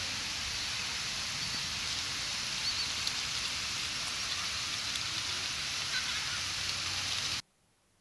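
Rain falls as a steady, soft, even hiss of drops on surfaces, constant and fairly quiet throughout with no voices, then stops abruptly just before the end.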